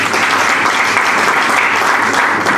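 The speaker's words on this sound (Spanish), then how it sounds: "Regálele un aplauso, Señor." Church congregation gives loud, sustained applause, a thick wash of many hands clapping together close by, steady from start to finish with no speech over it.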